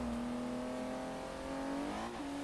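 A V12 engine in an old car in Forza Horizon 3, droning steadily and close, then rising sharply in pitch near the end as it revs.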